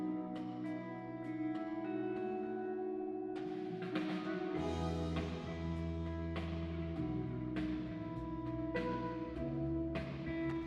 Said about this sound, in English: here's the sound of that room reverb where you can hear the sound bouncing around the room